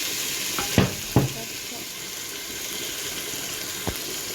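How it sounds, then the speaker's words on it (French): A few short sizzling bursts over a steady hiss as rice hits a hot pan while cooking mafé, then quieter background noise. "Je mets le riz dans la casserole."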